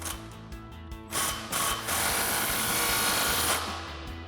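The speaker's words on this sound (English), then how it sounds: "grab our impact and 15mm socket and tighten it down" An impact wrench with a 15mm socket tightens an exhaust clamp on a Magnaflow Street Series cat-back system: a few short ratcheting bursts, then a loud sustained hammering rattle for about two seconds before easing off.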